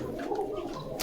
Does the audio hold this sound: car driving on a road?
no